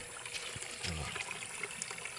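Water from a hose fed by an electric motor pump trickles and splashes steadily nearby, with a few louder gurgles partway through and no talking.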